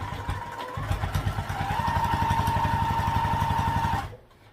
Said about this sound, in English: now we'll be sewing around the edge here. We'll top stitch 1/8 of an inch just to keep it in place